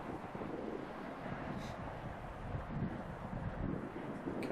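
Wind on a golf course buffeting the microphone, a steady low rumbling roar with gusty swells throughout, no talk.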